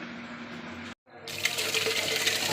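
Soaked ragi grains are washed under a running kitchen tap. After a short silent gap, a steady, close stream of water splashes continuously into the grains.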